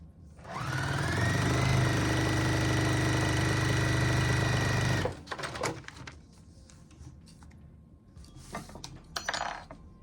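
Sewing machine stitching fabric for a quilt block, a loud steady whirring run of about five seconds that stops abruptly, followed by faint handling clicks and rustles.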